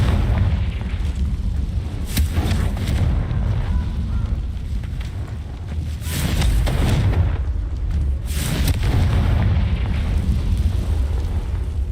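A Confringo fire spell blasts in the Hogwarts Legacy video game, with several loud, booming explosions over a continuous rumbling, windy roar.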